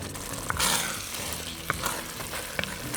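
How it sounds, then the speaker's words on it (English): A wooden spoon stirs red wine in a pot for short rib ragu, scraping browned bits off the bottom, with soft sizzling throughout and a few sharper scrapes and knocks. "with the wooden spoon we stir and we scrape any brown bits from the bottom to get all that flavor goodness"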